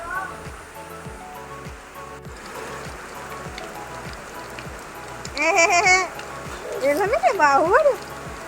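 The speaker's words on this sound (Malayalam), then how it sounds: "അപ്പോൾ അതേ നല്ല അടിപൊളിയായിട്ട് മഴ പെയ്യുന്നുണ്ട് കേട്ടോ" Steady heavy rain hisses throughout, with a person speaking over it toward the end.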